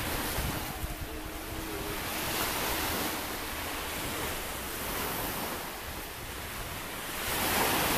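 Ocean waves at Jemeluk Beach in Amed, Bali wash in as a steady, broad surf roar with gentle swells in intensity, mixed with some wind rumble and no voices.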